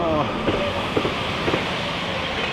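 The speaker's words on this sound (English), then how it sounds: "And that was just a train passing by." A passing train rumbles steadily near a bridge, a loud, continuous broadband roar with faint rhythmic clacks of wheels on the rails.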